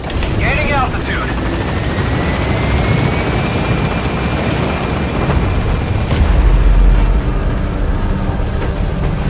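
The Pequod helicopter in Metal Gear Solid V: The Phantom Pain gains altitude with a loud, continuous rotor thrum and engine whine, a rising tone, and a deep boom-like swell late on, while voices talk over it.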